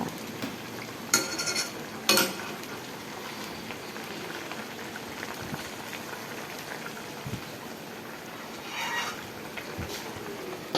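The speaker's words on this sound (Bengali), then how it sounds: "এবার একটু নাড়িয়ে নিয়ে আমি ঢাকনাটা দিয়ে দেব।" A pot of food is stirred, with a couple of sharp metallic clinks from a utensil against the pot early on, over a steady soft hiss of simmering, before a lid is set on top. No one speaks.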